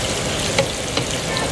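Onions frying in a pot for Bannu beef pulao give a steady, dense sizzle, with a couple of brief stirring clicks, close and continuous.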